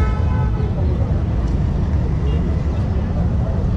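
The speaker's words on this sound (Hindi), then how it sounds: "ये फायर ब्रिगेड की गाड़ियाँ जा रही हैं।" Fire brigade vehicles roll past on a flooded road, a continuous loud wash of engine and traffic rumble with a faint horn toot, under someone talking.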